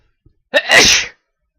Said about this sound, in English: Speaking of sneeze, this is the thing I'm gonna do again.